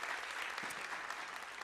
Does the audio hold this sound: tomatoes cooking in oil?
no